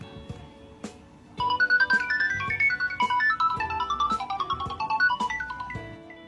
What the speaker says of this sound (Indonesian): di handphone ini tuh ada nada dering yang zaman dulu gue suka banget sama nada dering ini